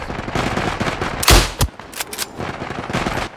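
Rapid bursts of gunfire in the video game Isonzo, a mountain-warfare shooter, with loud close shots, a heavy blast around the middle and further crackling fire, no talking.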